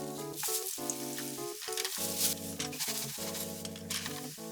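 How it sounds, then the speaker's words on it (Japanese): Flour-dusted eggplant sizzling in a frying pan with rice oil, a steady fine frying hiss running the whole time beneath louder background music, with no talking. "フライパンで焼きます。"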